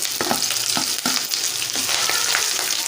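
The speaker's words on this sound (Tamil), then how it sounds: "இப்போ நல்லா வதங்கிடுச்சு. இது கூட நம்ம எடுத்து வச்சுருக்கிற கீரையை ஆட் பண்ணிக்கலாம்." Onions, dried red chillies and drumstick greens sauté in a pan, giving a close, continuous sizzle with repeated scraping strokes of a spoon stirring through.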